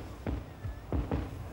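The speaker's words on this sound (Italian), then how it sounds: "fu spaventata dal rumore dei fuochi d'artificio che attorno alla nave trasformavano la notte in giorno" Fireworks burst around a ship at night, three or four loud booms in two close groups, with faint crackle and a high whistle between them.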